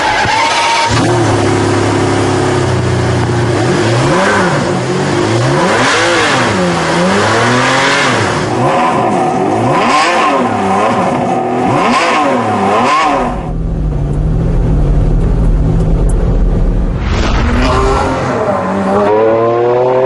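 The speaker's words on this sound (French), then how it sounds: "on appuie en tremblant sur le bouton magique qui réveille le" A Ferrari Enzo V12 supercar is started and revved hard, the engine climbing and falling through repeated loud sweeping blips, then settling to a deep rumbling idle before another rev near the end; no talking.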